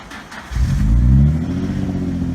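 A manual-transmission car engine catches and starts, then revs up with a deep, rising drone that settles into a steady idle, heard close up with no one talking.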